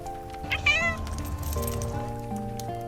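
A house cat lets out a single drawn-out meow over soft, melodic background music from a cozy JRPG inn scene.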